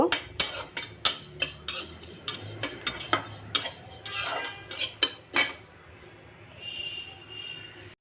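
Panch phoron spices are dry-roasted in a pan with a spatula, producing a series of sharp metallic scrapes and clinks in an uneven rhythm at close range, then settling into a soft, faint sizzle at the end.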